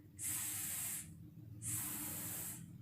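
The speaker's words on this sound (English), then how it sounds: "Suddenly, one spotted snake crawls out of the sand and starts hissing." A spotted snake emerging from sand gives two long, loud, sharp hisses, each lasting about a second, separated by a short pause, with nothing else heard.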